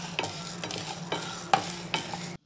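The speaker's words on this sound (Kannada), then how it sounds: "ಈಗ ಶೇಂಗಾ, ಕಡಲೆಬೇಳೆ, ತೊಗರಿಬೇಳೆ, ಉದ್ದಿನಬೇಳೆನ ಕೂಡ ನಾನು ನಿಧಾನ ಉರಿಯಲ್ಲಿ ಹುರ್ಕೋತೀನಿ" Peanuts with chana, toor and urad dal being dry-roasted on a low flame in a pan, a steady dry rattle broken by about five sharp scraping stirs of a spoon, close and without talk.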